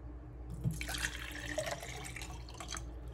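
Water pouring into a portable travel kettle, a steady splashing stream lasting a few seconds, close by and moderately quiet.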